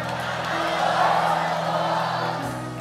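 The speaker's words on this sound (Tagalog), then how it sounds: "Isa pong malakas na sigaw na salamat" Worship congregation giving a loud collective shout of thanks, a sustained mass of cheering and whooping voices with music held underneath, dropping off near the end.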